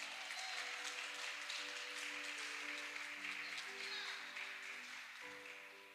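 A congregation claps to praise the Lord during a sermon, a soft, distant, continuous patter of applause under held keyboard chords that slowly fades near the end.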